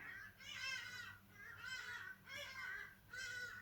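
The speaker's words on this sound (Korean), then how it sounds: "밖에 새소리가" A crow caws four times in a steady rhythm, faint and distant, outdoors.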